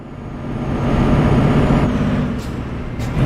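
A heavy truck engine in Euro Truck Simulator 2 cutting out, a dense low rumble that builds, holds, then fades and drops away, followed by faint brief clicks.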